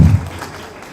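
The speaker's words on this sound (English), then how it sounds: "Clap for them." Audience at a Kenyan drama and film festival workshop applauding dancers, a short burst of clapping that fades quickly into room noise.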